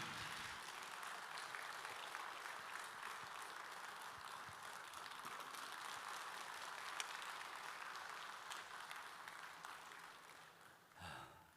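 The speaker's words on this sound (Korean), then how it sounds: "우리 참사님 나오실 때로 큰 박수로 환영해 주시면 감사하겠습니다" Sustained audience applause at a church testimony gathering welcoming a former North Korean embassy counsellor to the stage, a steady dense wash of clapping from a large crowd that fades briefly near the end.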